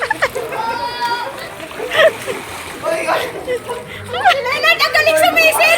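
A person dives into water with a splash at a lively family reunion games outing, the splash arriving amid excited children's voices, shouting and crowd chatter around the pool or water.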